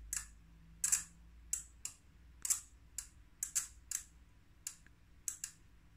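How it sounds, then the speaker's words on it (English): A 5 V DC relay clicks repeatedly as its coil is energized, about ten sharp, close clicks at uneven intervals over a low background hum. "you can hear this wonderful clicking"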